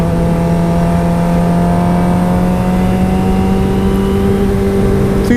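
A motorcycle engine drones loud and close as it revs and shifts up into third gear, a steady tone rising gradually in pitch with no talking.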